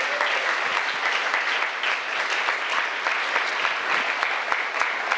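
Loud, sustained applause from a church congregation, a dense continuous patter of many hands with a few sharper claps. It holds steady for several seconds, with no voices over it.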